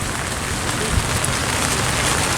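Steady rain falls during an outdoor ultimate frisbee practice, a dense, even hiss of drops on surfaces close by, with brief faint thumps and no clear voices.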